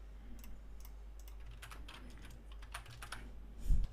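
Typing on a computer keyboard while writing code: irregular bursts of light clicking keystrokes, fairly faint, ending in a slightly louder clack, with no talk.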